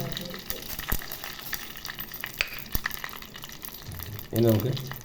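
Curry leaves hit hot oil while a spicy sardine curry is being made, giving a crackling sizzle with sharp pops and spatters that settles into steady frying. A voice speaks briefly near the end.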